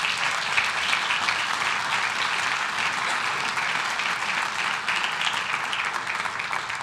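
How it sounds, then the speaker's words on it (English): Steady applause from an audience at a Santa Ana city council meeting, a dense, even wash of many hands clapping that holds at a moderate level for several seconds without voices breaking through. "Let's give them a round of applause."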